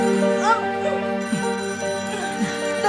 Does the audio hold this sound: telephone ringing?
yes